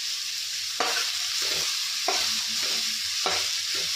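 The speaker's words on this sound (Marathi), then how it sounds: "यामध्ये आता हा मी स्वच्छ धुवून कट केलेला कोबी टाकत आहे" Washed, chopped cabbage goes into a hot pan with turmeric and oil, loud close sizzling under rhythmic stirring scrapes roughly every second, with no voices.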